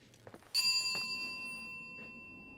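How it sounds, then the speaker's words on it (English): A single clear bell ding in the video game The Cost of Rachel Foster, struck once after a few soft knocks and left ringing out slowly with a long fading tail. "And I just heard a bell ding."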